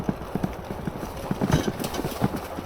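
Horse hooves clip-clop steadily along a nature trail while being ridden, a close, irregular rhythm of soft thuds with no talking.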